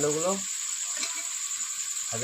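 Meat and fried potatoes sizzle together in a pan, a steady close hiss of frying, with a voice speaking at the start and end.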